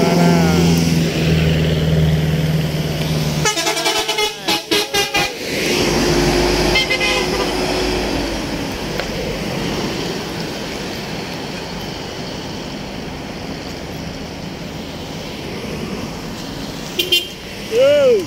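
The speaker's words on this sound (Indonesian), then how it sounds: "Macet" Busy traffic jam on the Bengkulu–Medan road, car horns honking repeatedly, several short toots clustered early and again near the end, over a steady engine rumble and some nearby talk.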